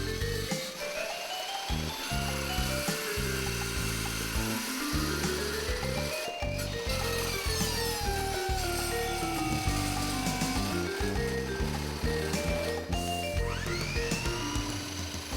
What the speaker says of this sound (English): Cutting with a steel cutting saw blade allows high-speed cutting not possible with a cut-off wheel.